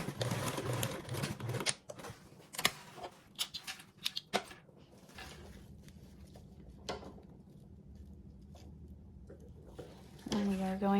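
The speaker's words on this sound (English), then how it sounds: "sew this at a 3/8 seam allowance" A sewing machine sews a 3/8 inch seam, a low, quiet, steady whir after several sharp clicks and taps, ending with a louder burst.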